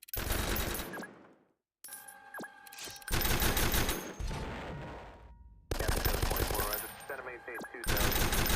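Rapid bursts of automatic machine gun fire in the Roblox combat game Noobs In Combat, loud and dense, cutting out briefly before resuming in several long volleys with scattered tonal game sounds between them.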